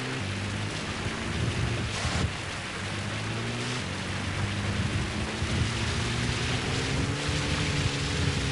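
Steady rain hissing across the scene in Metal Gear Solid V, a dense wash of downpour with a low engine-like rumble beneath and a few brief louder gusts.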